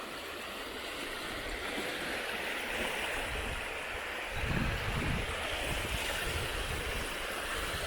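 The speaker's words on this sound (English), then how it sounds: "Water sounds lovely when it's running down like this" Water runs down a channel outdoors in a steady, broad rushing wash, briefly swelling louder near the middle, with no voices over it.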